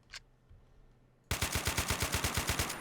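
An RPK or RPD light machine gun fires in Men of War: Assault Squad 2, a loud rapid burst of about a dozen evenly spaced shots that starts abruptly after a quiet second and keeps hammering to the end.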